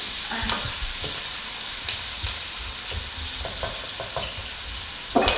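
Onions frying with white pepper in a pan, a soft constant sizzle with occasional light clicks and a brief clatter at the end, close and quiet.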